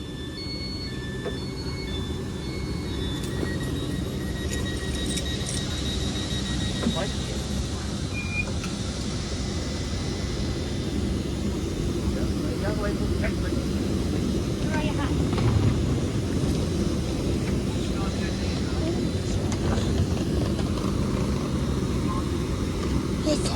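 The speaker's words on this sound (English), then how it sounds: "the train now arriving into platform 1" A train pulls into Lichfield Trent Valley station, a steady broad rumble and rush of wheels and wind over the whole stretch, loud and close, with a few faint tones and no clear talk.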